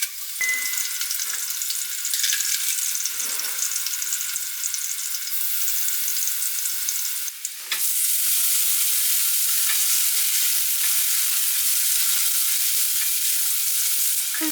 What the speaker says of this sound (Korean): 올리브유 살짝 두르고 다진 마늘 넣어주세요